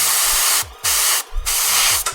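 Spray paint hosed onto a miniature icy-horned Beastclaw figure in three loud, close bursts, each a broad hissing blast cut by brief silent gaps.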